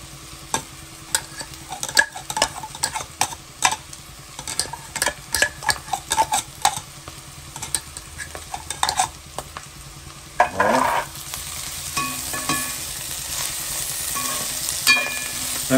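Ginger and chili frying in a pan, stirred with a utensil: steady sizzle under repeated sharp scraping clicks, with a louder burst of frying partway through, close and alone.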